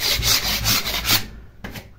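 A scraper rasps paint off a painted staircase ceiling joint in quick, loud back-and-forth strokes, about five in a row, then a short pause and one more stroke.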